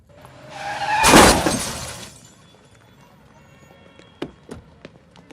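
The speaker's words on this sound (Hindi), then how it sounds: "और दिखाई नहीं देता, गाड़ी ठोक दी मेरी।" A car crashes in a city street scene from a Hindi comedy film: a loud, sudden burst of smashing glass and crunching metal fading over a second, then scattered sharp clicks and rattles of debris settling.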